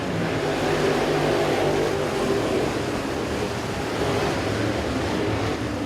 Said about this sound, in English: He's on the throttle. Green flag's out.